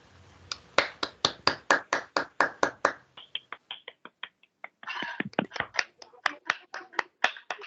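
Attendees at a pipe-installation presentation clap in crisp, evenly spaced strokes that sound close and fairly sparse, with a short pause midway and no voices.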